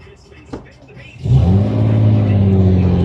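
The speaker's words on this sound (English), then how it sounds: "Downshifting into second, not easy." A 1964 Austin Healey 3000 MK2 engine, heard from the cabin, rises from a quiet idle into a loud, steady throaty drone after a downshift into second gear, close and sustained to the end.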